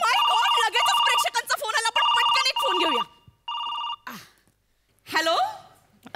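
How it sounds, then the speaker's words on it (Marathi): A telephone rings with a loud, bright electronic trill in repeated bursts, close by, followed by a gasp and other brief vocal sounds, heard during a Marathi stage comedy sketch. "ओ माय गॉड, लगेचच प्रेक्षकांचा फोन आला."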